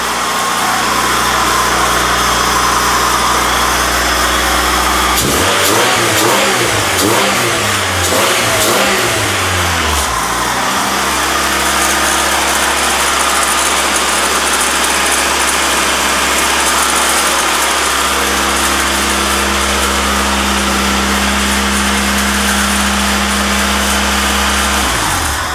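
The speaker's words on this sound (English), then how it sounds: "So we did a decent job on the engine. It's all revving cleanly and nicely." A car engine revs repeatedly in a garage, several quick rising bursts standing out over a steady close idle, then settling back to a constant hum at slightly varying speed, no talking.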